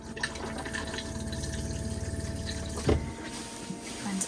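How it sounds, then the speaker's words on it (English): A 2018 Auto-Trail Apache 700 motorhome's onboard water pump hums steadily and close while the toilet flushes, with a brief louder gush of water near the end. No talking. "to flush, you want to make sure you've got your water pump turned on and some water in your fresh water tank"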